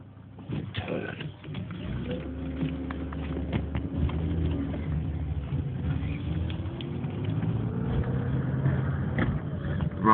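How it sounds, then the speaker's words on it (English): A BMW E36 328is with a worn engine pulls hard in second gear at full throttle from low revs, its engine note rising steadily and loud from inside the car. "Right, we're at second gear now. 16 or around 16, 1700 RPM, flat to the floor."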